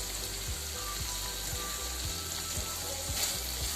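Chicken sizzles steadily in oil in a home pan, a constant low hiss with faint, regular soft knocks underneath and no talking.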